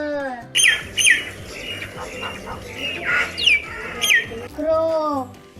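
A common myna gives a string of squawks and sharp chirps, loud and close, in several separate bursts with brief gaps.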